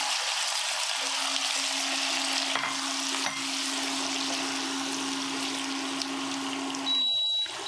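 Boiled bottle gourd hits hot oil in a pan while cooking Bengali lau posto. It gives a loud, continuous sizzle and crackle that stays strong throughout and rises briefly near the end.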